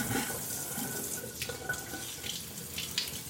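Tap water runs and pours onto silky paper at a sink, a steady close splashing trickle with a few brighter spatters, no voices.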